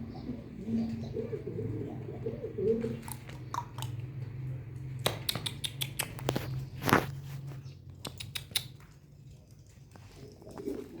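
Pigeons coo softly in a loft, low murmuring calls near the start, then scattered taps, shuffles and pecking sounds, all quiet and close.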